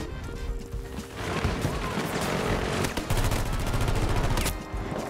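Heavy gunfire in the video game Battlefield 2042 comes as loud, sustained, overlapping bursts of rapid shots with sharp cracks. The firing continues across several seconds of intense combat.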